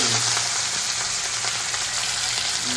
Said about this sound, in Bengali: এবারে মাছ ভাজবো, কড়া চাপিয়ে দিলাম